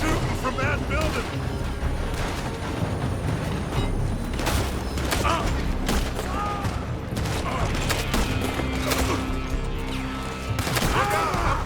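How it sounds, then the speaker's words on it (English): Enemies in Red Dead Redemption 2 fire in dense, overlapping volleys, with sharp cracks and impacts in rapid bursts throughout, under shouted game voices. "They're shooting from that building!"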